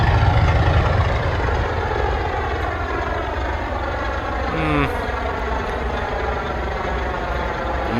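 Twin engines of a Cessna 401 in a flight simulator game, heard from outside as a steady, loud droning hum with a rough, slightly faulty tone, running continuously with a brief tonal blip partway through.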